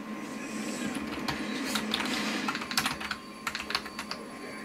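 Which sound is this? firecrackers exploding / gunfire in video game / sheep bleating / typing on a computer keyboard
typing on a computer keyboard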